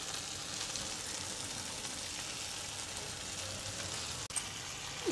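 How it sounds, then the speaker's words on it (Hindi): Marinated soya chunks cooking in a pan with softened tomatoes, a steady low sizzle and hiss of frying that runs evenly throughout, with a brief clatter near the end. "इसमें हम डालेंगे ये सोया चंक्स जो हमने मैरिनेट करके रखे हैं"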